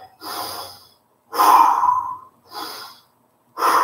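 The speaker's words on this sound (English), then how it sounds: "Deep breath." Heavy, deep breaths during a home leg-day workout, four loud close inhales and exhales in a slow, uneven rhythm with short silences between.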